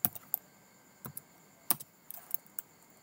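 Sparse, quiet keystrokes on a computer keyboard while entering values in PLC programming software, a few separate clicks and short clusters of taps with pauses between, no talking.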